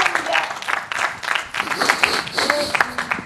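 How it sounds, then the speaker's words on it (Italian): Studio audience on a reality show set claps in uneven bursts, fairly close and lively, with a few raised voices mixed into the applause. "L'applauso di Eleonora, Eleonora."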